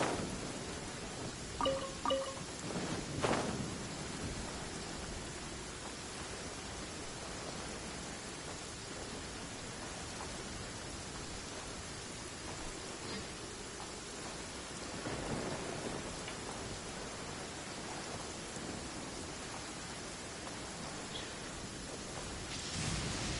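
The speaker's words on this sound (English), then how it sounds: "Taking a stroll in the middle of a downpour certainly rouses the spirit." A heavy downpour in Genshin Impact hisses as steady, dense rain with low rumbles of thunder. A few brief sharper accents come early on, and the storm plays alone without speech.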